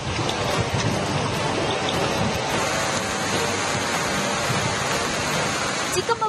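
Heavy monsoon rain pours steadily in the Malnad hills of Chikkamagaluru, a dense, continuous wash of hiss and roar that stays loud throughout, with a few sharper knocks near the end.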